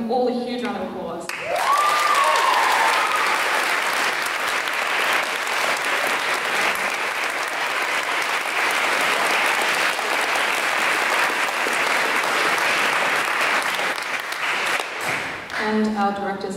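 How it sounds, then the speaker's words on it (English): Loud, sustained audience applause for barbershop choirs and small singing groups at a concert, a dense wash of clapping lasting about thirteen seconds before fading, with brief voices at the start and end. "give them all a huge round of applause."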